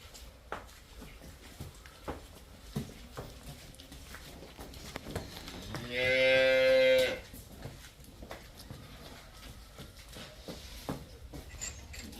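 A cow at a dairy farm where cows and buffalo are being sold lets out a single loud, drawn-out moo lasting about a second, standing out against faint background rustling and scattered knocks.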